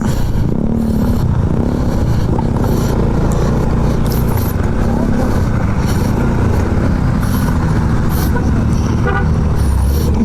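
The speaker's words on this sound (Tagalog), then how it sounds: "may kotse guys" A car passes on a hot desert road and sounds its horn, with loud, steady engine and road rumble filling the whole stretch close by.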